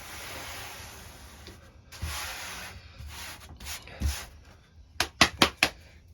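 Sanding a Zebrano wood guitar body, with a steady abrasive rubbing hiss in bursts, then several short sharp scrapes or taps near the end, close and moderately loud.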